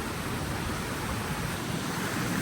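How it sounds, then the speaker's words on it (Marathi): Water from the Satsada waterfall rushing steadily during the monsoon, a dense, constant roar of broadband noise with no breaks, heard close and without talk. "आणि आता हा वॉटरफॉल आहे आमचा."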